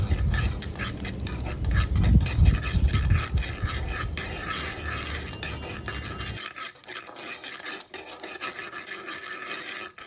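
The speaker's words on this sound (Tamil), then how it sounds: "கடலைப்பருப்பு வந்து கொஞ்சம் ப்ரௌன் ஆகிற வரைக்கும் நல்லா வறுத்துக்கலாம்." Mustard seeds and chana dal roast in hot oil for a South Indian lunch, giving a steady close scratchy crackle that is loud for several seconds, then thins to a quieter hiss.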